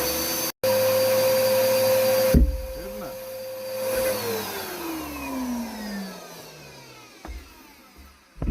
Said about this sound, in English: Let me get this vacuumed up real quick.